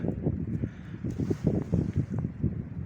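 Strong wind gusting outdoors beside beehives, a steady low rumbling buffet that swells and dips throughout, with no voices.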